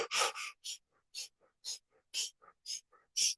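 Breath of fire breathing exercise: a rapid run of about a dozen short, forceful breaths, close and crisp, in a steady pulsing rhythm with brief gaps between bursts.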